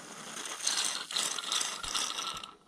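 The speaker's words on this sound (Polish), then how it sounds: "Wkładamy w odpowiedni otwór i pryskamy jakimś tam śmirem w sprayu." Lubricant sprayed from an aerosol can into a motorcycle cable on a Yamaha XJ900 Diversion during a service: a close, steady hiss in a few bursts with short breaks, fading out at the end.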